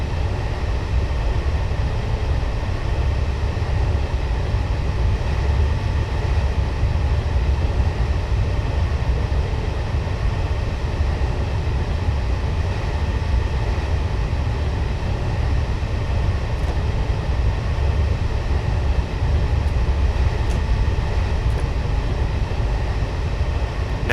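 A Class 221 diesel train in Train Simulator 2015 drives between Dundee and Edinburgh, giving a loud, steady engine and rail drone that holds evenly throughout with no voices.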